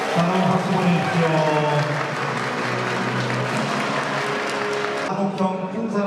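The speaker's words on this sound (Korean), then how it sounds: "사랑 박수 보내주십시오" Crowd applause at a university's 70th anniversary ceremony, steady and full throughout, with a voice and tonal sound running beneath the clapping.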